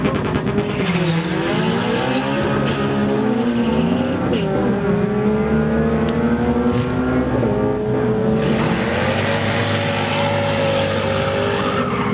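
Loud V8 engines, including a stock LS-swapped Honda Civic EF hatchback, rev and scream up through the gears in quarter-mile drag racing, with rising and falling pitch sweeps and tire noise, continuous and near.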